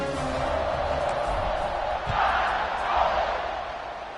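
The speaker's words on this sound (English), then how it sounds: "this crowd is feeling themselves after that last drive" A stadium crowd roars in the College Football 26 video game during a kickoff, a steady broad wash of cheering that swells slightly midway, with no clear single voices standing out.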